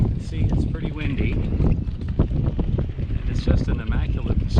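Strong wind buffets the microphone at a yacht club marina lined with powerboats and sailboats, a steady roaring rush that continues throughout with someone speaking over it.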